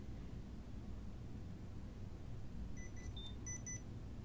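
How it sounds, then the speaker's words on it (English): A Mynt ES Bluetooth tracker chirps a short run of faint, high electronic pairing beeps near the end, over a steady low hiss of room noise. "so we heard the noise, the beep"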